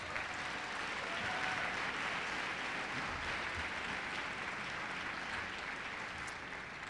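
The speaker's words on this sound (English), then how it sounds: "I ask you to join me in one more round of applause for Mr. Jenkins, Mr. Reidelberger," A high school auditorium crowd at a state speech finals claps in a steady, fairly faint wash of applause lasting several seconds, with no distinct voices over it.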